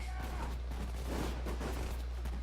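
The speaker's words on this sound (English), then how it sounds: "keep shooting" Gunfire from the World War II strategy game Sudden Strike 4, a dense rattle of overlapping shots and muffled bursts over a constant low rumble, fairly quiet and continuous.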